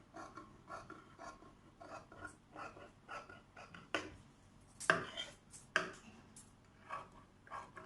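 Scissors cut through saree fabric at the neck, giving quiet repeated snipping and rustling in an uneven rhythm, with a few sharper cuts partway through.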